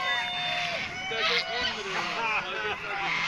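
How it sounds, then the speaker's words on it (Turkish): Loud, continuous honking and quacking from a flock of ducks at a pigeon market in Sakarya, Turkey, overlapping calls close by with no pauses. "Baksana bunlar ördeklere bak."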